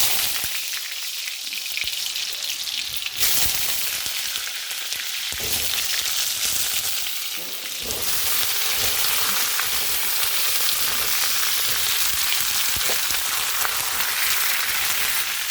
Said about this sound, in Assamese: মই প্ৰথমতে কোমোৰা আৰু আলুখিনি ভাজি ল'ম।